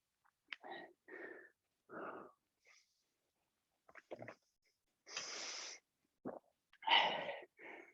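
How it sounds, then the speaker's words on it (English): A series of short nasal blows and snorts with pauses between, ending in a louder, longer honking blow of the nose, close by. "Blowing my nose on live TV."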